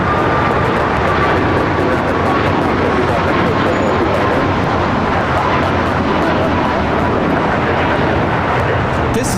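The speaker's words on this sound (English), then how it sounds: "This is United Airlines 1863 taking off to Phoenix on the MAX 8." Loud, continuous jet roar as a United Airlines Boeing 737 MAX 8 takes off from LAX, a dense rumble with a faint whining tone early on, heard beneath people talking.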